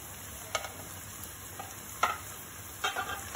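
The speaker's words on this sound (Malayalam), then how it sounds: "നന്നായി ഇളക്കി കൊടുക്കുക." Tomatoes and green chillies being stirred in a pan for Malabar chicken biryani, with a few soft, scattered scrapes and clicks of a spoon over a faint background hiss.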